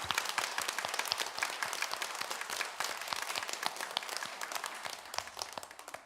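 A church congregation at a Sunday worship service claps hands together in honor of the choir, with many quick, sharp claps that blend into a steady, moderately distant patter that fades slightly at the end.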